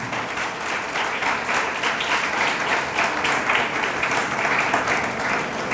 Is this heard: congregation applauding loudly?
yes